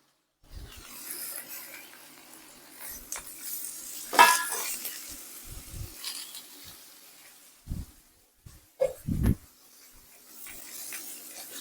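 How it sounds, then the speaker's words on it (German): Chicken pieces sizzle in a very hot pan while being pressed down, a steady low frying hiss with intermittent clinks and scrapes of utensils against the pan, close and moderately loud. "wie das brutzelt."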